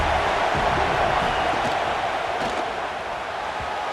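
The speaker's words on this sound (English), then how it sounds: "This crowd rising up, sensing that his defense needs some help." A stadium crowd in EA Sports College Football 26 cheers in a dense, steady roar that fills the whole stretch, swelling slightly before easing off toward the end.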